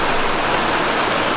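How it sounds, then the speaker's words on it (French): Rain falling in a steady, dense hiss with no breaks, loud and close, with no voices over it. "Il pleut."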